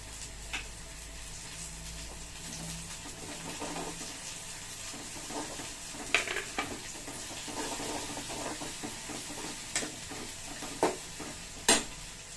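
Onion frying in a pan with ginger-garlic paste and curry leaves, a low steady sizzle with occasional stirring scrapes and a few sharper clinks, heard close and without speech.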